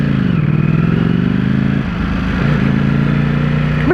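A Ducati Panigale V4S races along at speed, its engine droning loud and steady, then a quick-shifter gear change briefly dips and stutters the note before it pulls on strongly.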